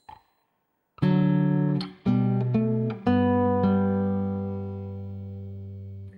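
An acoustic guitar plays measure 7 of Minuet in G: a soft pluck, then a run of clear plucked notes at a moderate pace, the last one left ringing and fading, close and alone.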